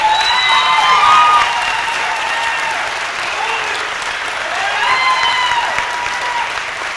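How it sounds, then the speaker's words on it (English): Sustained applause from an audience at a spring graduation ceremony honoring award recipients, a dense steady wash of clapping that swells slightly near the start and again midway, with faint cheering mixed in. "one more round of applause for all of these wonderful people"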